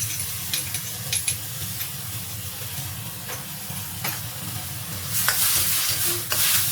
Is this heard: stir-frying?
yes